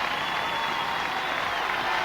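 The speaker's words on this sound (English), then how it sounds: "that's got the Dundee Rockets fans standing and cheering" Dundee Rockets ice hockey fans at a 1986 Scottish Cup game stand and cheer after a goal, a steady loud roar of applause and crowd noise filling the rink with no pause.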